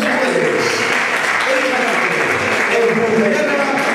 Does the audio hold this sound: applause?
yes